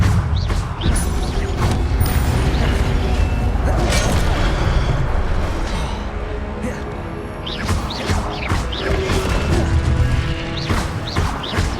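Levioso levitation spell in Hogwarts Legacy: a dense, busy wash of magical game effects with repeated thuds, creaks and crashing impacts, loud and continuous, with short swooshing accents and a voice in the mix.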